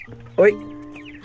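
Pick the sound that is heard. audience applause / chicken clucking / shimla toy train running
chicken clucking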